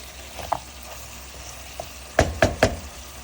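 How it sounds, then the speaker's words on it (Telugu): Tomato pieces dropped into a pan of sizzling Andhra-style mutton curry, a soft steady frying hiss with a few light taps early on, then three sharp clatters in quick succession. "ఇప్పుడు నేను టమాటో ముక్కలు వేస్తున్నాను"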